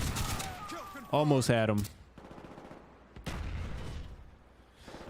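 Shotgun blasts in a Call of Duty video game, a few sharp booming shots separated by pauses, with a player talking between them.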